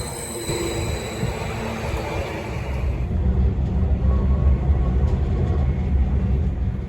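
Steady rumble of a train rolling along the line toward Manningtree, continuous broadband rail noise with no voices, growing slightly louder midway through.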